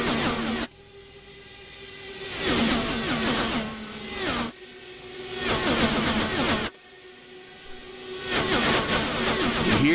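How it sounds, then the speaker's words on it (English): IndyCar DW12 cars at Indianapolis Motor Speedway in a racing video game: engines rise and fall in pitch as they pass and shift, in three repeating surges, with abrupt cuts between the segments. "You can hear the change in engine tone on these camera shots"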